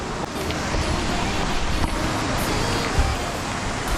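Steady broadband rush of a mountain stream near the Churdhar Peak base camp, continuous and fairly loud with no pauses or distinct splashes.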